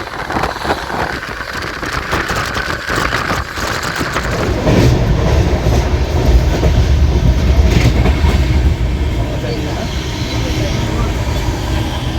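The Howrah–Barmer Express rumbles steadily along the rails at sunrise, loud and close, its roar swelling midway and holding to the end.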